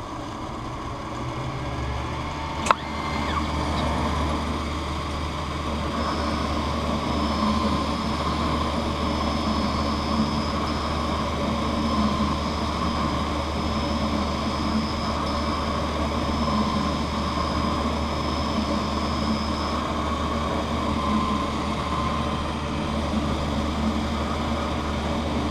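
A lens edging machine grinds a bevel onto a tinted bifocal eyeglass lens, giving a steady whirring, humming drone that holds evenly for the whole stretch with one sharp click near the start.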